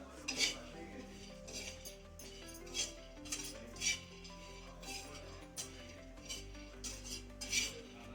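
Coconut, sesame, peanuts, garlic cloves and Byadgi and Lavangi chillies dry-roasting in a pan, heard as quiet, irregular clinks and scrapes of a metal spatula against the pan, spaced a second or so apart.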